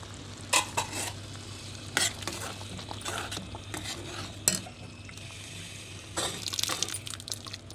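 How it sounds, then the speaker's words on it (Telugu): Urad dal, cumin, garlic, dried red chillies and curry leaves frying in hot oil as a tempering: a steady close sizzle with several sharp crackling bursts spread through, no talk. "మినప్పప్పు, జీలకర్ర, వెల్లుల్లి, ఎండుమిర్చి, నూనె బాగా వేగిన తర్వాత కరివేపాకు యాడ్ చేయాలి."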